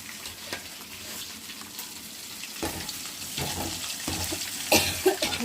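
Coriander seeds, onions and dried red chillies fry in oil with a continuous crackling sizzle. Stirring scrapes and light clinks grow busier toward the end, heard up close without speech.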